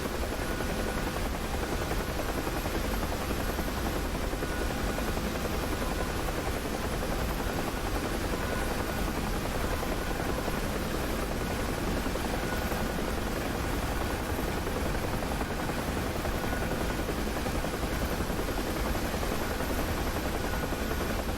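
A Huey helicopter in the DCS flight simulator flies over the Syria map, and its rotor and turbine roar stays loud and steady for the whole stretch, with no voices heard.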